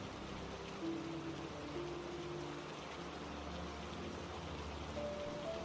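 Steady rain falls outside in a soft, continuous patter, an even wash of drips with a faint tonal hum in the background and no voices.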